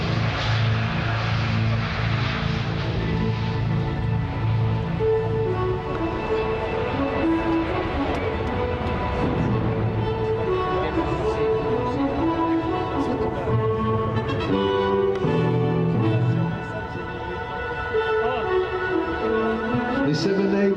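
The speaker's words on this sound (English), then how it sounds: "making speed quite easily because we are lightweight and the pull-up after rotation will be quite impressive" An airliner, a lightweight Boeing 787 long-haul jet, gathering speed down the runway for takeoff at the Paris Air Show, a loud sustained engine roar with a voice talking over it throughout.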